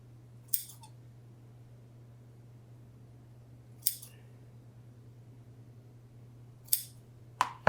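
Scissors snip green yarn for a pumpkin pom-pom craft, four quiet, separate cuts spaced a few seconds apart over a steady low hum, with no voices.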